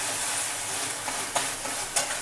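Homemade garam masala roasts and sizzles in a pan for Konkani chicken vade, a steady soft frying hiss with a few scraping stirs of a spoon, close and unaccompanied by speech.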